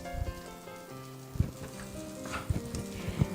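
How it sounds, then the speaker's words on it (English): Rice fries in a masala on a medium flame for South Indian plain biryani, giving a faint, soft sizzle with a few light pops over a low, steady hum. "We'll fry this rice for a couple of minutes."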